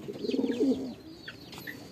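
A racing pigeon, a long-distance bird from the owner's loft in Nueva Ecija, gives a soft, low cooing phrase up close, followed by a few faint chirps in the background.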